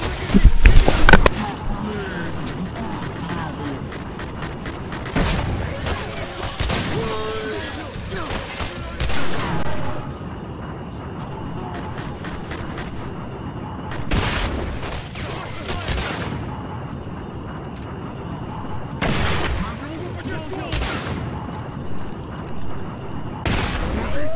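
Seeker weapon firing in the video game Singularity, loud repeated bursts of gunfire with booming impacts spread across the stretch, layered over busy game sound effects and noise.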